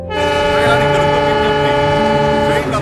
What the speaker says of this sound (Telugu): చాలా అనౌన్స్మెంట్ వచ్చింది, ట్రైన్ బయలుదేరిపోతుంది.